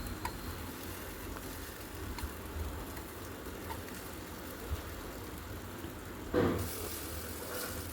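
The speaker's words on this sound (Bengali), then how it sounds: "এভাবে বাকি চিকেনগুলো ভেজে নিচ্ছি" Chicken kabab pieces frying in a pan, a steady low sizzle running throughout with a brief louder burst near the end.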